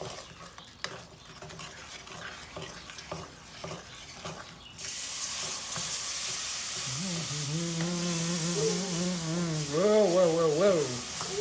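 Chicken frying in a pan of excess grease with onions, a loud steady sizzle and hiss that starts suddenly after quieter stirring and clatter, with a voice talking over the frying.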